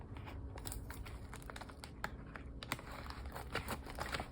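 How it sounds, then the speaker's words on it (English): Cutting open a mailed package, with quiet irregular crinkling, tearing and clicking sounds close by over a few seconds, no talk. "I'm going to cut this open."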